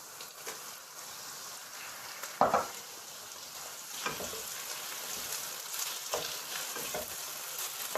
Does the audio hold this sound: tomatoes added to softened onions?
yes